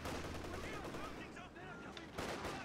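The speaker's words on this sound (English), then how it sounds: "these PTRS rifles doing some work on that looks, forcing him to retreat" Dense battle din from Company of Heroes with PTRS anti-tank rifles firing amid overlapping gunshots and explosions, loud and continuous, with a commentator talking over it.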